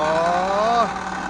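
A running car with a loose exhaust pipe, missing its clamp on one side, gives off a loud, close, steady humming drone that dips briefly in pitch partway through.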